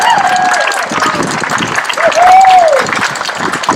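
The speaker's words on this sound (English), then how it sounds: "Please welcome, with a big round of applause" An audience breaks into applause with a few whistles and cheers, welcoming Rhode Island Senator Josh Miller to the stage at a healthcare rally. The clapping is loud and continuous throughout.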